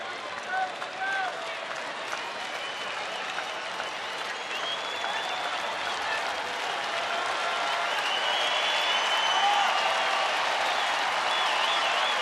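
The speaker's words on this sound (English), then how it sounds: "Put their hands together for Joakim Soria and the Rangers." Crowd at a Rangers baseball game in their home stadium applauding and cheering to support the pitcher, a broad, sustained roar of clapping that builds slightly over time, with a commentator talking over it.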